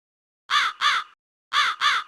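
Four harsh crow caws come in two quick pairs with a short silence between them. The calls are loud and close, with no other sound around them.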